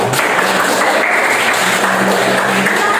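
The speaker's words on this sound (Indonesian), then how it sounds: "Tepuk tangan." Classroom of students applauding at the end of a lesson, a steady dense wash of clapping that holds at even loudness throughout with faint voices mixed in.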